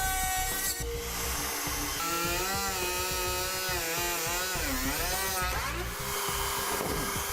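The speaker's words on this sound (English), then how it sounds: "We use a Dremel tool to cut that out." A Dremel rotary tool cuts through a panel on a 2007 Jeep Wrangler during a base plate installation, its loud, continuous high-pitched whine rising and falling in pitch as the cutting load changes, close and steady throughout.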